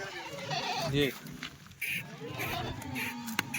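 Kathiawadi goats being unloaded from a vehicle bleat in wavering cries, several overlapping calls close by, mixed with people talking in a busy outdoor setting.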